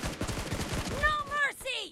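A rapid burst of shotgun fire from the video game BGMI, with loud clustered blasts followed by a tonal game voice effect, all within a couple of seconds.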